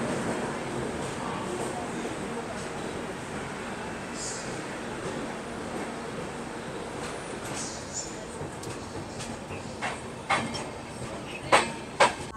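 The Samta Express pulls out of a station on its way from Visakhapatnam to Nizamuddin, a low steady rumble with faint wheel clanks growing toward the end, heard from nearby under background murmur.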